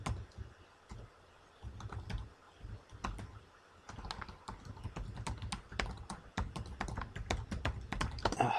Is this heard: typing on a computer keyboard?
yes